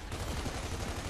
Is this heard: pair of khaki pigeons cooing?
no